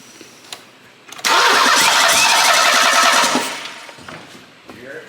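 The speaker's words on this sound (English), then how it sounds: "We're gonna try cranking it one more time. See if it builds pressure." Merkur car engine cranking with a fuel return line clamped, a steady loud starter whir lasting about two seconds, then fading, with faint clicks before and after.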